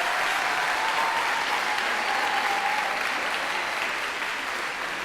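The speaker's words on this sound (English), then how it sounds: "Can we have one more round of applause for them?" A school choir audience gives sustained, dense applause at an evening performance, a steady wash of many hands clapping at an even level throughout, with no talking.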